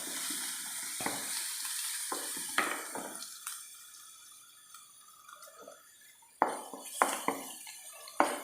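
Potato bonda masala with curry leaves sautéing in a pan: a light frying hiss with a run of sharp spoon scrapes and taps against the pan, quieter in the middle, then several louder clanks.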